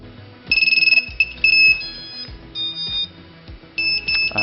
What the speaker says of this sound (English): just plugging in the battery now, you should hear the beeps,